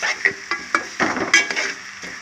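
Onions, mutton and chana dal frying in a pan for a mutton chana dal curry, with a sizzle under repeated stirring strokes and scrapes about every half second, close and fairly loud.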